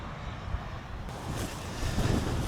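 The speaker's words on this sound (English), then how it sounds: "All right, another windy one out today. Very windy today." Strong wind gusts roar steadily across an old cemetery, buffeting the microphone in a continuous rumbling rush that swells and surges over a couple of seconds.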